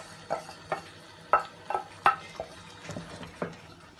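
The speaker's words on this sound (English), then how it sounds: "I'm going to mix my sauce." A sauce for beans and plantain porridge is stirred in a pot, giving a series of about eight short scraping and clinking strokes at an uneven rhythm, close and moderately loud, with no voices.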